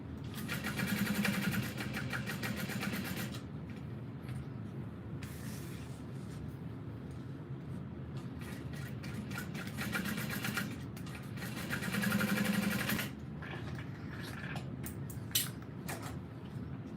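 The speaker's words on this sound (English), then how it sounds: "I'm going to top stitch across the top, so the wider end is the top." A sewing machine runs while top stitching across the top edge of fabric, steady mechanical whirring in two longer bursts with short pauses between, close and moderately loud with no talking.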